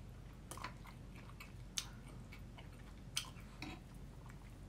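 Quiet, close chewing while eating shrimp, with soft crunchy clicks and a few sharper bites spaced irregularly over faint background hiss.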